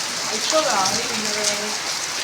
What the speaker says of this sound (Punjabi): ਕਿੰਨਾ ਜ਼ਿਆਦਾ ਮੀਂਹ ਪੈ ਰਿਹਾ